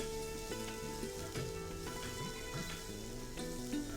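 Garlic, oregano and paprika sautéing in a home kitchen pan, a steady soft sizzle and crackle running the whole time, with background music over it.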